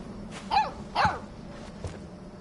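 A guard dog gives a few short, moderately close barks, two clear ones followed by a softer third, against a quiet background.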